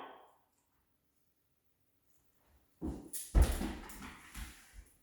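During down-command obedience training, a dog gives a few short, close whimpers and rustling sounds in uneven bursts after a long quiet stretch, with no speech.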